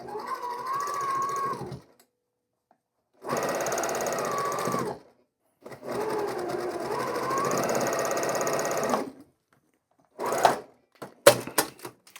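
A sewing machine stitches quilt block seams in short runs, a close, steady whirring hum in three bursts separated by pauses, followed by a few brief clicks.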